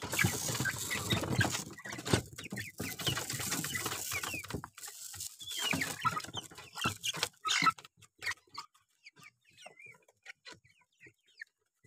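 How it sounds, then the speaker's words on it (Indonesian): Small chickens clucking and pecking nearby at feeding time, busy rustling and scratching at first, then scattered soft clucks and chirps in a quieter stretch. "Bas, kita mau ngasih makan ayam kecil."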